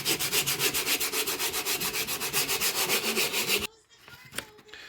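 Rhythmic back-and-forth sanding strokes as an AE86 parcel shelf is flattened, loud and close, about fifteen even rasping passes that stop abruptly near the end and leave a few faint knocks.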